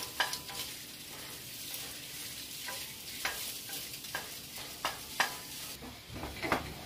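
Lean sausage sizzles and fries in a pot while a utensil breaks it up, with a soft, steady crackle broken by repeated scraping stirs, close and fairly quiet, with no talk.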